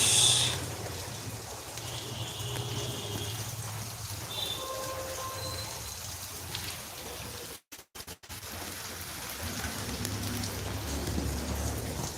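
Steady rain pattering on a waterlogged mosque ground, a dense continuous hiss with a brief dropout midway, no voices.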